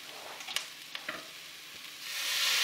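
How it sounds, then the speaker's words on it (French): Water poured into a saucepan of food seasoned with couscous spice, hitting with a few scraping clinks, then a rising, steady sizzling hiss toward the end, close and moderately loud, with no talk. "Et là, je vais rajouter de l'eau."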